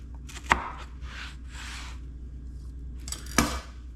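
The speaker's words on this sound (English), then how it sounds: "Take your pepper, slice that up." A green pepper being sliced with a knife, two sharp chops on a cutting board, each followed by softer scraping strokes, close and quiet over a low background hum.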